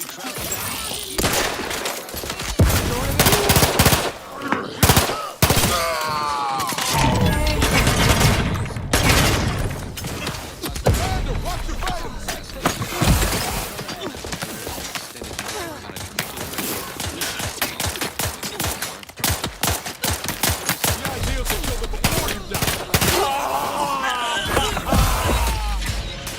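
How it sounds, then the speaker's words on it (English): Explosions and rapid gunfire in The Outer Worlds 2 video game combat, dense bursts of shots and blasts running continuously and loudly throughout, mixed with game music and effects. "Free explosion for you!"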